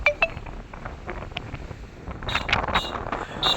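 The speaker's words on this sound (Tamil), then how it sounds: "சரியான காற்று, நிற்க முடியலங்க" Gusty wind in Ladakh, between Drass and Kargil, buffets the microphone with rushing, rumbling noise, growing stronger toward the end, with faint clinks in the background.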